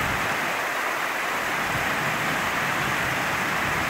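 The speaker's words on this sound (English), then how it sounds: "there's a bit of a torrent coming down here." A rain-swollen mountain stream rushes as a torrent, a dense continuous roar of water close by, steady and loud throughout with no talk.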